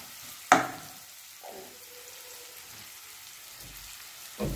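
Onions fry in oil until browning for a vankaya and tomato curry, a soft continuous sizzle with a sharp clatter near the start and occasional faint knocks, no talking.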